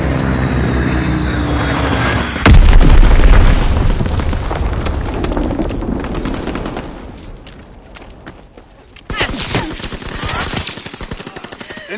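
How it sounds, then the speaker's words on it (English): Bomb explosions and machine-gun fire in the Call of Duty: WWII beta, a heavy blast hitting hard early and then dense rattling gunfire with further booms, fading down briefly before another loud burst of shots. "Enemy bomb incoming. Get to cover."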